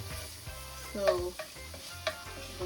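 Tomato searing in a pot of seasoned fish-and-okra base, a soft steady sizzle with a few louder scraping stirs and clinks, close and alone.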